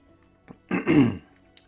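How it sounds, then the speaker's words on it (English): A single short throat clearing, close and fairly quiet, with near silence before and after. "Sorry about clearing my throat there."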